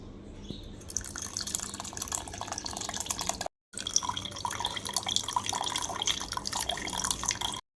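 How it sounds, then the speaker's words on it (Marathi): Freshly blended orange juice is strained, liquid trickling and dripping steadily through a strainer at close range, with a brief silent break midway. "आपला संत्र्याचा रस काढून झालाय आता आपण हा गाळून घेऊया"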